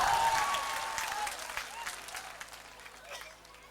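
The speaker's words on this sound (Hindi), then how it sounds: "जोरदार तालियों से इस्तकबाल करें" An audience at a political rally claps loudly to welcome a speaker to the stage. The burst of applause starts strong and then thins and fades over a few seconds to scattered claps.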